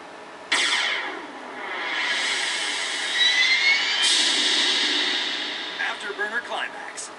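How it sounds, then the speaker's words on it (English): Jet engine roars from the Sega arcade game Afterburner Climax on Lindbergh hardware, loud swelling and sweeping whooshes with sharp bursts, and a voice briefly heard beneath the game audio. "And that's Afterburner Climax."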